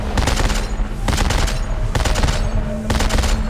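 Rapid automatic gunfire in the Dead Space 3 video game comes in several loud, dense bursts separated by brief pauses.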